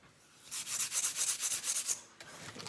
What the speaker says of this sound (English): see if this sandpaper will make it somewhat better